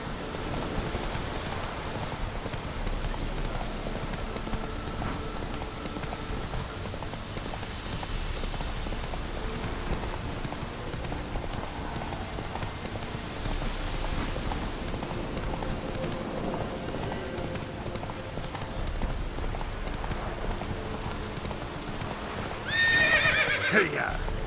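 Geralt's horse Roach gallops through rain in The Witcher 3, a steady drumming clip-clop of hooves under constant rainfall, ending with a loud neigh; a voice is heard speaking over the ride.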